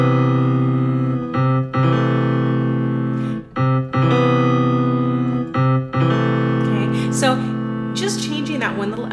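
Piano left hand rolling through an arpeggiated chord pattern, repeating broken-chord figures in a steady rhythm, bright and close, with no talking.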